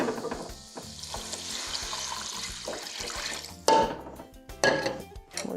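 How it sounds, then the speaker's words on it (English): Water poured from a measuring cup into a pot for red lentils, a steady splashing stream followed by two sharper pours close up, with faint clinks of cookware. "And then we're going to add 3 cups of water"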